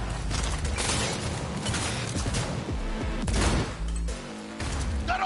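Dense video-game gunfire in a cyberpunk shooter, with rapid overlapping shots and bursts forming a continuous loud fusillade, layered with mechanical clatter and impacts throughout.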